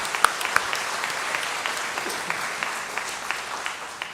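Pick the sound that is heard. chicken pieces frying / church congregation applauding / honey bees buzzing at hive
church congregation applauding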